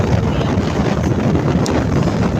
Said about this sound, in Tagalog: Lamig guys, sarap ng hangin dito sa labas.